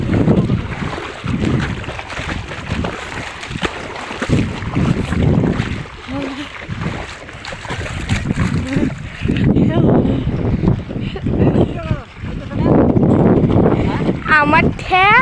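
A boat moves on the Jamuna river during a fishing outing, with water wash and gusty wind noise under several people talking.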